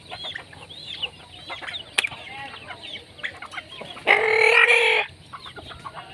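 Free-range native chickens on their roost under a roof, clucking and murmuring in scattered calls nearby, with one louder, harsher squawk burst lasting about a second near the end.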